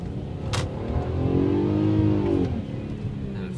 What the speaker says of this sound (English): now let's do full throttle